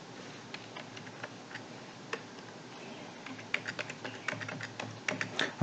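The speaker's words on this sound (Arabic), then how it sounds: "انا هكتب اي باسورد انا عايزها" Typing a password on a computer keyboard, light scattered key clicks that become quicker and more distinct toward the end, close and fairly quiet.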